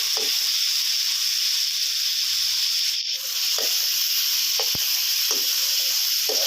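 Pork fries with ginger, coriander root, garlic and pepper, giving a loud, continuous close sizzle broken by a few sharp stirring scrapes and clicks.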